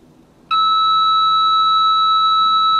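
HKC SecureWave alarm system panel arming, sounding a loud, sustained electronic beep tone that starts abruptly after a brief quiet moment and holds steady.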